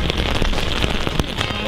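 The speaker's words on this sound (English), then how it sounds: "Yeah, it's raining hard." Heavy rain pours down steadily at Columbia University, a dense continuous hiss with occasional louder drops and splashes close by.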